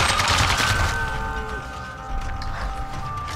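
Machine gun fire in the video game Sniper Elite 3: a dense, loud burst of rapid shots in the first second, then a thinner crackle over a sustained tonal backdrop.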